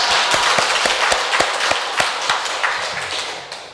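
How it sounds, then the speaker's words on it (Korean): Churchgoers clap together during a sermon, sharp separate claps and taps landing in an uneven rhythm that thins out toward the end, close and loud, with no talking over them. "하나님 사랑합니다 말하면서 박수 한번 치셔야 됩니다."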